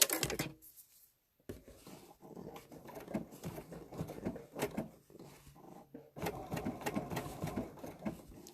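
A sewing machine stitches a small appliqué in short runs, a quiet rapid patter that stops briefly for pivots and starts again, close and faint.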